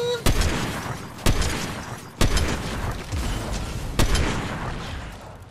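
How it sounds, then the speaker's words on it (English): Four heavy booms from a cannon in a building battle video game fire at uneven intervals over a rumbling background, each blast sharp and loud with a short decaying tail. "Let's get over here and release the cannon."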